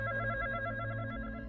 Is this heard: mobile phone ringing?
yes